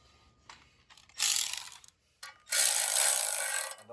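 A ratchet snugs bolts during a Gen V L8T engine build, sounding as two close bursts of rapid clicking separated by brief quiet.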